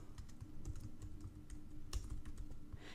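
Rapid keystrokes on a computer keyboard while entering text for a banner design, an uneven clatter of close clicks with short pauses and no voices.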